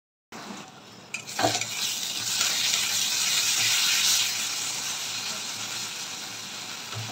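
Fish frying in a pan, with loud, steady hissing sizzle and scraping and clinking from stirring, close by and without talk.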